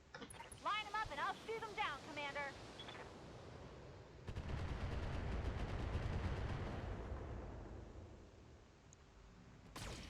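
Mech weapons firing in the BattleTech video game, a sustained roaring barrage of gunfire and blasts that swells in after a short voice passage, then fades into a rumbling tail.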